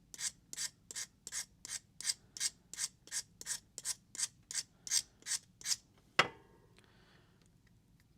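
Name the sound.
sharpening a blade edge by hand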